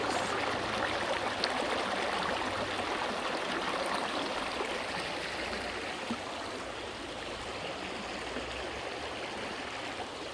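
Water rushes and splashes over rocks in a constant, even stream, with no pauses.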